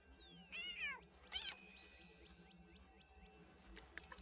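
A cat in The Sims 3 gives a few clear, mid-loud meows, including a longer drawn-out call early on, heard over quiet game background ambience with soft clicks and chimes near the end.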